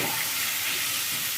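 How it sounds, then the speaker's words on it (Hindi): Potatoes and drumsticks fry in a pan over medium-low flame for a curry, giving a steady, fairly faint sizzle and crackle that runs evenly throughout with no voices. "और मिक्स करके हम इसको पहले 2 मिनट तक फ्राई कर लेंगे"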